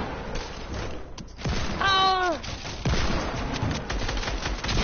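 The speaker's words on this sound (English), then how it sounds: "A double headshot with a deagle." Desert Eagle pistol shots in a video game: several sharp, punchy reports with a rising and falling whistling tone in the middle, loud and close against steady game noise.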